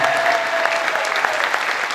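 A festival crowd breaks into loud, dense applause at an evening concert, with steady clapping from many hands throughout and a few voices faintly mixed in.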